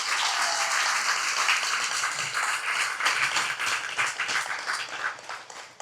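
A crowd at an evening municipal election campaign rally in Morne-à-l'Eau applauds candidate Franck Garain, dense sustained clapping throughout, loud and close, easing slightly near the end.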